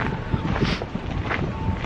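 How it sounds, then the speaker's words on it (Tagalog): Gusty winter wind in Hokkaido, Japan, buffets the microphone in a continuous rough roar, with bursts rising and falling throughout. "Ganito pag may hangin."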